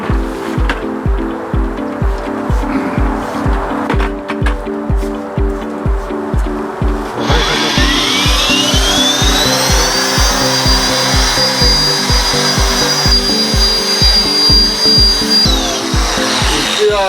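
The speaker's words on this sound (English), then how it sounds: "Now I'm gonna polish. Put some product on here." A Glass Resurfacer polishing machine buffs a glass surface with polishing product, a steady loud motor whine rising in pitch and holding, over a rhythmic low thumping of the pad against the glass.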